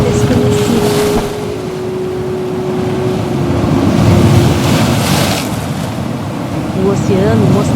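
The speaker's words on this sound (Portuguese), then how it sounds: "O oceano mostrava sua força, testando coragem e resistência." Ocean waves surge and wash continuously around a boat out at sea, with steady wind and a broad roar throughout, rising slightly midway.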